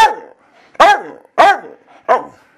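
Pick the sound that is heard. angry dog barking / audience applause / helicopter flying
angry dog barking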